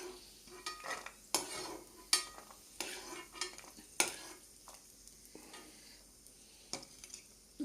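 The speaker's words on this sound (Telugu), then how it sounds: "ఇవి కొంచెం బ్రౌన్ కలర్ వచ్చే వరకు వేపుకుంటున్నానండి షాలో ఫ్రై కింద నేతిలో" Cashews shallow-fry in ghee in a pan with a soft, low sizzle, punctuated by sharp, irregular clinks and scrapes of a spoon stirring against the metal.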